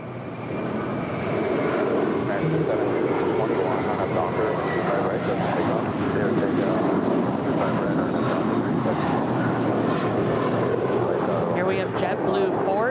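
A six-year-old JetBlue Airbus A321 departs LAX bound for JFK. A steady, loud jet engine roar fills the whole stretch, with voices talking underneath.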